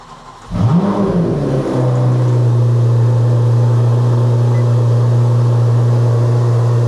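A 2026 Corvette ZR1's engine starts with a rising rev and then settles into a loud, steady droning idle, close and continuous with no talking.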